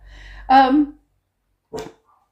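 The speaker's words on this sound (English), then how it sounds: "I don't know what my dogs are barking out up there." A dog gives a single loud bark, followed after a pause by a second, shorter bark, both nearby.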